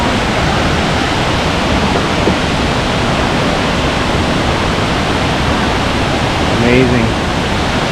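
A steady, dense rush of a river flowing over limestone at its source fills the scene, loud and unbroken, with a brief spoken exclamation near the end.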